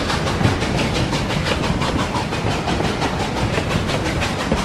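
Cartoon Pepsi train running along rails, a steady rhythmic clickety-clack of wheels over track joints with a hissing rumble, loud and continuous throughout, no voices.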